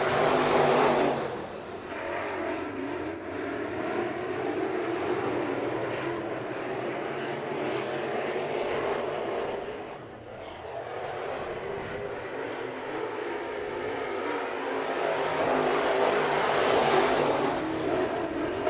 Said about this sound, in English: Modifieds on track now for their heat race action.